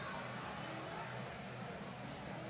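A packed high school football crowd cheers in a steady, dense roar, broad and continuous throughout without any distinct peaks.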